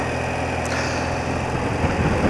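An old motorbike engine idles close by, a steady, even rumble with a faint high whine, no one speaking over it.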